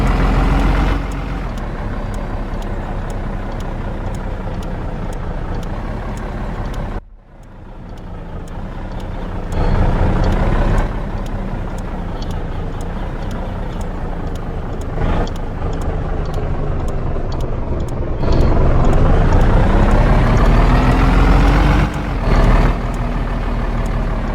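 A loaded Tata truck in a driving video game labors uphill on a mountain road, its engine drone loud and continuous, dipping briefly then climbing in pitch as it revs, with no voices.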